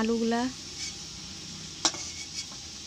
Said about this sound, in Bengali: আমি প্রথমে আলু দিয়ে দিলাম তেলে ভাজার জন্য